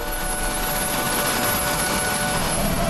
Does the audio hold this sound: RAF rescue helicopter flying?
yes